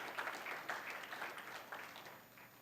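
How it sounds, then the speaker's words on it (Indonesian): A church congregation clapping in praise during a Sunday service, fairly faint and distant, a steady patter with slight swells throughout. "tepuk tangan bagi Tuhan Yesus"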